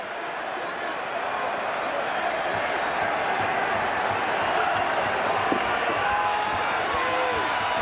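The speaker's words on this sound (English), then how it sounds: "This crowd knows the outcome. They're cheering the shutout at this point." Broad, sustained cheering from a football stadium crowd at a 2006 Bengals vs Ravens game during a shutout, a steady wash of voices with faint scattered thuds and shouts rising slightly toward the end.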